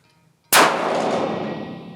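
One shot from a .308 Winchester rifle with a clean barrel: a single sharp, very loud crack that hits all at once and then rings and decays for well over a second. No voices are heard.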